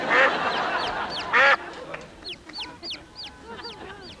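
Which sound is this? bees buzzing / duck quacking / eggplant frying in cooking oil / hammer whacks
duck quacking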